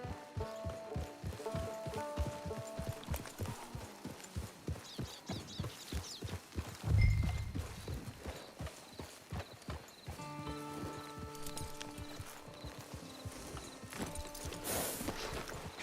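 Horse hooves clip-clop in a steady walking rhythm in Red Dead Redemption 2, joined midway by a loud snort or whinny up close, with hoof beats continuing after and faint game music beneath.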